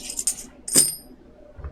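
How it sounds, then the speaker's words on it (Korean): Coins thrown during a close-up coin magic routine land with bright metallic clinks, a couple of quick jingles followed by one loud ringing drop, close and clear with no voices over them. "이 모든 동전들을 다 모아서 던져주면"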